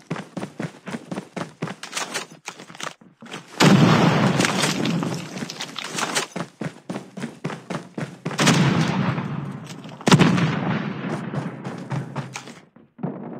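Gunfire and a frag grenade explosion in the Call of Duty Mobile video game: rapid bursts of shots crackle throughout, broken by several loud booming blasts with trailing rumble, close and dense.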